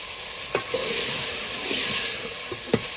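Prawns fry in a pan on a gas stove while being stirred, giving a steady close sizzle broken by a few sharp scrapes and knocks of the stirring utensil, with no talk.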